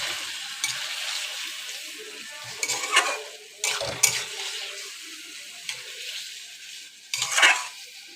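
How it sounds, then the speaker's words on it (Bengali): Potatoes coated in biryani colouring are stir-fried in a pot, with a steady close sizzle and repeated scraping and clinking of a spoon against the metal; no one speaks. "ওইটা দিয়ে আলুগুলো আমি একসঙ্গে এর মধ্যে দিয়ে কষিয়ে নেব"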